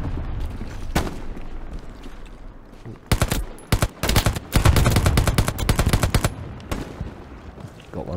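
Russian machine gun firing in the Hell Let Loose video game at Stalingrad, a few scattered loud shots followed by rapid sustained bursts of automatic fire, fairly close and sharp.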